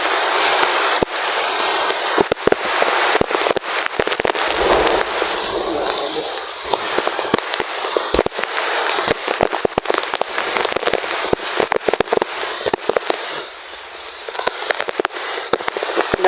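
Strong Typhoon Uwan wind roars without break, a dense, rough rush full of sharp crackling bursts like debris or rain striking, loud and close over the full length, with coconut trees being whipped about.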